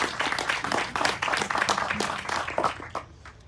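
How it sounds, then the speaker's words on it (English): An audience at a launch event applauds, giving dense, steady clapping at close-to-mid distance that carries on for several seconds before tapering off at the end. "Let's clap for her"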